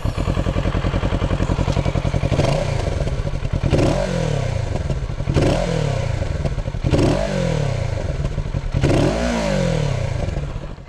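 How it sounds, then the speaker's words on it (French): A 2022 Kawasaki Z650RS twin-cylinder motorcycle idles loudly up close, then gives about five sharp throttle blips whose exhaust note rises and falls in a repeating pattern. "on va écouter le petit son de l'échappement bien évidemment, et on démarre"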